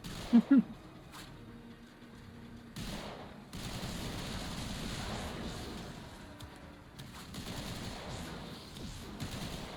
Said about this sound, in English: I feel like somebody's shooting at me and they're whiffing